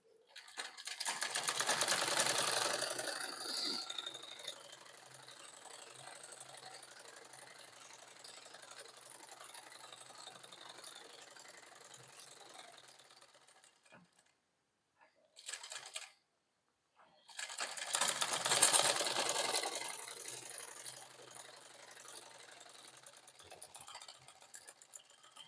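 A sewing machine stitching a garment body seam: a fast, steady mechanical whir of needle strokes, loud and close, stopping briefly near the middle before starting again, with no talking.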